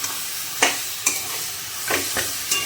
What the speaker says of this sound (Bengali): এবার ভালো করে কষিয়ে জল দিয়ে দেবো